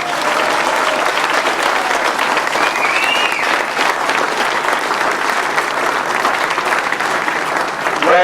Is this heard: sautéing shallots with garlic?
no